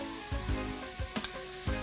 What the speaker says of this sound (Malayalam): പാകത്തിന് ഉപ്പിട്ട് നല്ലോണം വഴറ്റി കൊടുക്കാം.